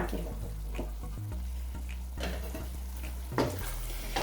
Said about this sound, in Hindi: अब हम इसकी अच्छी तरह बुनाई करेंगे